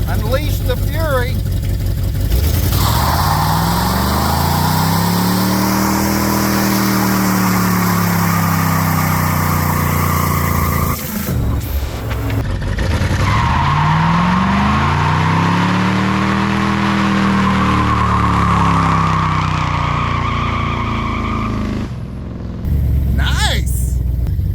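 A car with a little slack in its steering, driven on a road, revs hard in two long rising and falling surges, loud and close, with voices partly under the engine noise.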